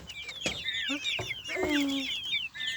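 Young chicks clucking and peeping while pecking at feed, a busy run of close chirps and short clucks with a voice briefly heard in the background.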